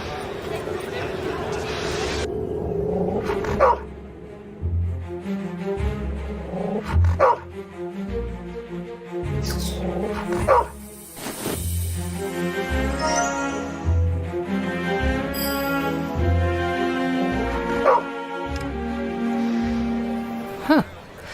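A dog in the Dark City Amsterdam video game barks and whimpers in short repeated bursts over a background music score, with several louder yelps standing out near the start and middle.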